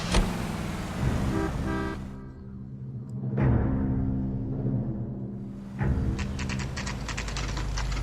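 In the video game L.A. Noire, a car door clunks shut and an engine idles in a steady drone, with sharp clicks and a second door thud partway through.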